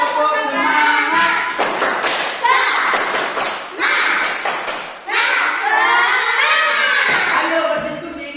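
Indonesian schoolchildren in a classroom perform a rhythmic spirit clap, loud close bursts of claps and thumps alternating with shouted chanting voices in a patterned beat.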